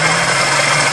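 Geo Metro engine, sitting unused for years, running rough with a wire pulled off, a loud, dense, steady idling rumble close to the engine with no voices.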